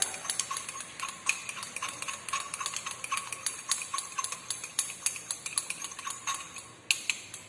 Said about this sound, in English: Then I would like to go for continuing the trituration operation